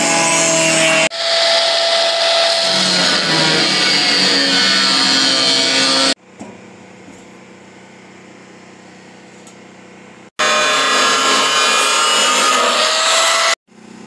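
Cutoff wheel cutting a hole in a steel barrel for a wood stove build, loud harsh grinding in two long bursts separated by a quieter stretch of the tool idling.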